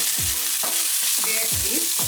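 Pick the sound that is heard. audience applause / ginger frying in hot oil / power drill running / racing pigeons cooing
ginger frying in hot oil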